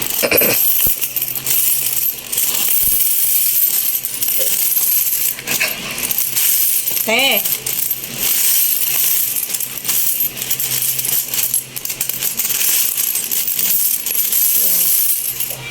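Coins pour and clatter continuously out of a broken savings bank, a dense, loud metallic jingle of many coins spilling and settling, with brief rustles and a faint voice.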